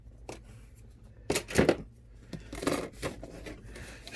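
A hobby knife blade scrapes and cuts into a plastic model kit part, making short, crisp scratching strokes in a few separate bursts, close up and fairly quiet.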